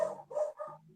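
Dogs bark in a short burst of three or four quick yaps from nearby on a noisy residential street, fairly faint, with no talking.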